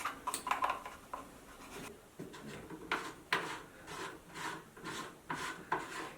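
A shower head twisted onto its pipe by hand, giving irregular scratchy scraping and rubbing bursts from close by, quiet, with small clicks between turns and no speech.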